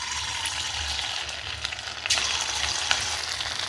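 Chicken pieces for chicken 65 frying in hot oil, with a steady, close, broadband sizzle throughout and a few brief louder crackles as pieces go in, with no talking.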